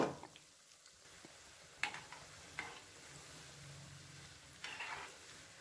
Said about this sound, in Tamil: மீடியம் ஃப்ளேமில் வச்சு பொரிச்சு எடுத்துக்கலாம்.